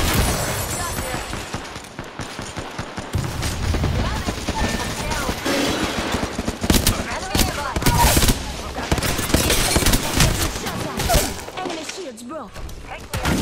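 Rapid gunfire and bursts of automatic weapons rattle through an Apex Legends firefight, layered with thuds and shattering impacts, while voices speak over the chaotic, dense action.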